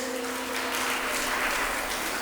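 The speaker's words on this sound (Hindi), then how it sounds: "उनके लिए एक बार जोरदार तालियों से हम सम्मान करेंगे" Applause from the crowd at an Independence Day program in Dimapur honouring martyrs, a soft, continuous wash of clapping heard at a distance, with a faint tonal hum beneath.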